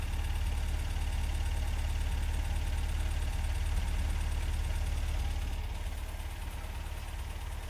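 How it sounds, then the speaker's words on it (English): A 1971 MG MGB Roadster engine idles steadily through a polished exhaust exit with a deep, even rumble and fine rhythmic pulsing, easing slightly quieter near the end. "Let's have a listen at the idle."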